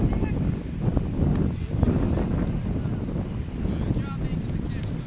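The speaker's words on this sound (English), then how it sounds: "Wind is coming down a bit." Steady outdoor wind buffets the microphone with a continuous low rumble at a trick-kite event, the US Nationals, with occasional faint talk underneath.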